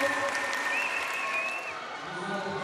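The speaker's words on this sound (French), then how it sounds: "Allez, un tonnerre d'applaudissements pour ce juvénile tour." An audience at a French dance championship applauds after a children's routine, a continuous wash of clapping with a thin tonal whine above it and voices mixed in.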